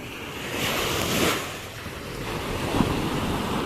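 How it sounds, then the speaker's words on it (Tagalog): Sea waves washing onto a muddy beach with boats offshore, a steady broadband surf roar that swells and recedes, with wind buffeting the microphone throughout. "Ang ganda ng dagat."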